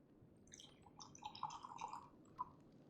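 Water poured close to a microphone, a soft trickling and dripping splash lasting a couple of seconds, quiet and alone without talk.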